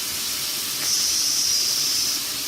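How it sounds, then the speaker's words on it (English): A steady, hissing sizzle of flank steak in a pan fills the clip, swelling slightly louder in the middle before easing back, with no voices. "Sizzle."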